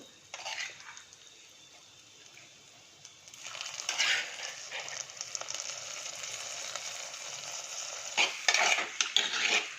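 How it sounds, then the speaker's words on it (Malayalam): Prawns, garlic and onion are stirred in a hot pan for a Kerala prawn theeyal, with a spoon scraping and clattering against the metal over a light sizzle in close, uneven bursts. "അതൊക്കെ ഒന്ന് ഇളക്കി കൊടുക്കാം. ഉള്ളിയായിട്ടൊന്ന് യോജിച്ച് വരുമ്പോൾ"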